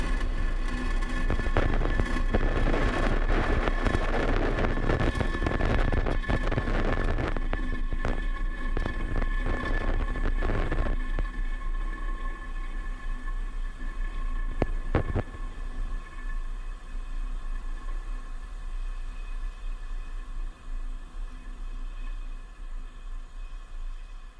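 A SpaceX Falcon 9 lifts off on the Space Development Agency's second Tranche 0 mission, giving a continuous crackling broadband roar that stays loud for about fifteen seconds and then thins to a steadier, fainter rumble.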